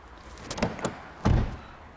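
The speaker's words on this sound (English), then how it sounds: "I'm going to close the door" A Volkswagen Polo door is pushed shut in a garage, a couple of soft knocks followed by a single solid thud, close and fairly loud with no voices.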